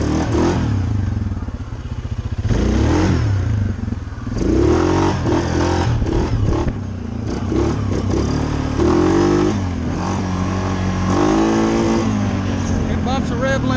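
A modified Suzuki KingQuad 750 ATV engine revs hard while riding, loud and close, surging and dropping repeatedly with clattering and scraping from the machine, and a voice talking over it.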